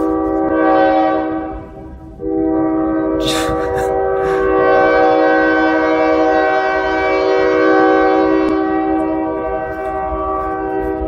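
A loud, sustained train horn blares with rich harmonic tones, briefly dipping before sounding again and holding steadily to the end, heard from a welding workshop.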